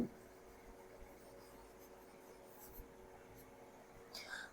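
Chalk or marker scratching on a board as an English sentence is written out, a soft continuous rubbing with small strokes, faint and close, with a brief squeak near the end.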